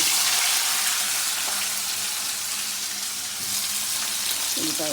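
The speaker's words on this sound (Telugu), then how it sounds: "ఆయిల్ పెట్టి మిరపకాయలు, మినపప్పు, శనగపప్పు, ఆవాలు, జీలకర్ర వేసాను" Red chilies, urad dal, chana dal, mustard seeds and cumin sizzle in hot oil, a loud and steady frying crackle that continues without a break.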